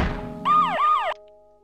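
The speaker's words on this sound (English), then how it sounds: "It's a siren." A siren in the video game Creatures 3, a loud warbling two-cycle wail lasting under a second, then cutting off to a faint fading tone.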